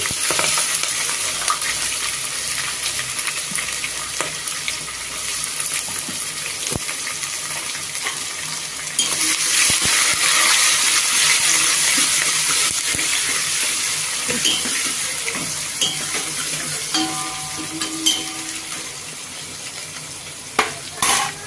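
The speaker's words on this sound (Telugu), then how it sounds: "ఇది కొద్దిగా మగ్గిద్దాం ఉల్లిపాయలు కొద్దిగా మగ్గిపోయండి" Onions with green chillies fry in a pan for breakfast sambar, a steady loud sizzle with intermittent spoon scraping and stirring, swelling midway as the pan hisses more strongly, with no one talking.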